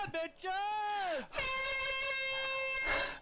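A loud air horn blares in two long blasts, the first wavering and bending down in pitch, the second held steady and strong.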